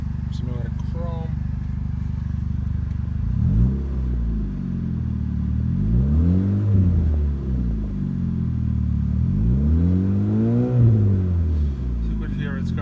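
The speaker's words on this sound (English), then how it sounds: "So you could hear it's got a nice little rumble to it." A 2006 Pontiac G6 idles with a low, steady rumble, its pitch swelling and falling in a few gentle revs, close by and unaccompanied by talk.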